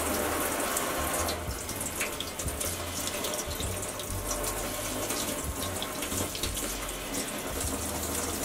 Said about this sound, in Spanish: Lo primero que vamos a hacer es lavar los tomates bien y licuarlos